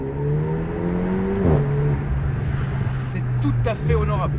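Renault Megane RS 400+ engine pulling a steady accelerating drone with rising harmonics, a brief burst near the middle, heard close while people talk over it.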